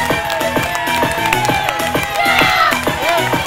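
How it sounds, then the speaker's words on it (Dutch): A crowd at the Helmond youth cyclocross national championship claps and cheers as a champion rider arrives, a loud, steady wash of applause mixed with bright music throughout. "Hier komt hij binnen, geef een geweldig applaus."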